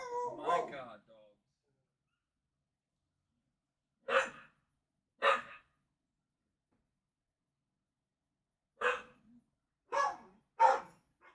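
A dog in a garage barks in short separate bursts, one at the start and then a few spaced barks in two groups, fairly loud and close with quiet gaps between.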